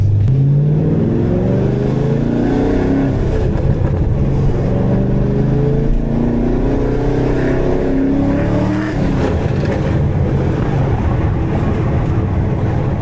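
A cammed fifth-generation Chevrolet Camaro Z28 heard from inside the cabin, accelerating hard with a loud, choppy engine note climbing through the revs, shifting gears around the middle and pulling again, the roar filling every moment.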